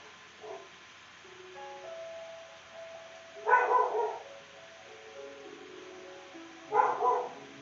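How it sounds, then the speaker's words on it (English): A dog barks at strangers walking along a street, two short bursts of barks separated by quiet stretches, fairly close and moderately loud, with faint tonal background sounds in between and no talking. "now she's barking at strangers walking down the street again"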